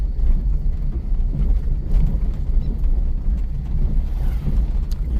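A motorbike on a dense forest road at night near the Sunderbans: a continuous rumbling engine drone, loud and close, mixed with wind-like roar throughout with no clear start or stop.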